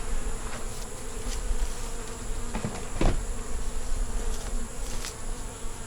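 Honeybees buzz around a water source in a yard, a steady close drone with individual bees passing near the microphone in louder swells, a faint tap sounding partway through.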